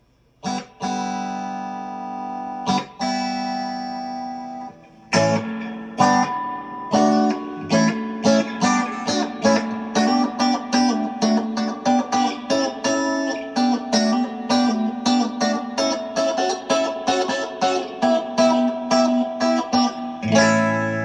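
An electric guitar plays through a tube amp with the reverb turned all the way up, a few ringing strummed chords giving way to steady rhythmic strumming with long washy tails.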